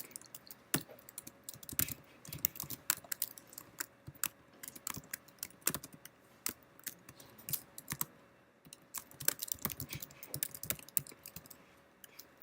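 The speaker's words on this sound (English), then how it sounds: "let me actually finish typing first." Rapid, irregular keystrokes clatter on a computer keyboard close by, coming in uneven bursts with short pauses and no voices.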